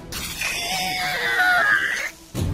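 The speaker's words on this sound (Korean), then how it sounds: "잭은 추악한 비명을 지르며 눈을 뜨더니 빽빽 소리 질러댔다" A man screams after being doused with hot water in a torture room, one long, harsh, strained cry lasting about two seconds, loud and close, then a sudden cutoff.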